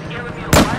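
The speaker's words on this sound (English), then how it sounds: "I just sniped the pilot out with the barrier" A single sharp sniper rifle shot from Battlefield 4 cracks out loud and close partway through, its blast decaying quickly over a low background of game ambience.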